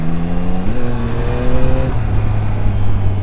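Yamaha MT-09 motorcycle engine droning loud and close, its steady note stepping down in pitch twice as gears change, with no voices over it.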